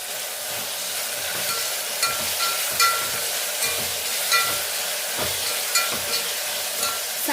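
Chopped tomatoes and onions fry in hot oil in a pan while being stirred, a steady close sizzle broken by scraping and tapping stirs from the spoon at irregular intervals, with no talking.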